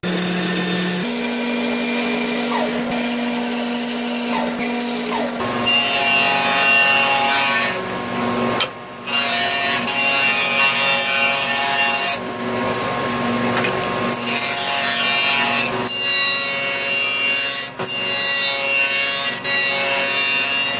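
Wooden tenons for a custom bathroom vanity are cut by hand saw, a steady rasping back-and-forth stroke sounding up close with brief pauses, over a continuous background hum and without speech.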